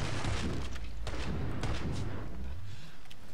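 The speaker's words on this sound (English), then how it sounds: "I just looked to my right and saw explosion" Muffled explosions and heavy thuds in the Killing Floor 2 video game, a few booming blasts over about three seconds, moderately loud with no talking.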